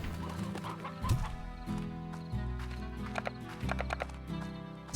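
Stone hens in Slime Rancher giving short clucks over a bed of cheerful game music, with a few quick pecking and clip-clop taps around them.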